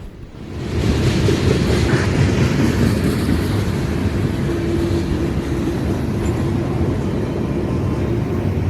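Freight train 583 rumbles past close by, a loud continuous roar with rhythmic wheel clatter that rises quickly at the start and then holds steady.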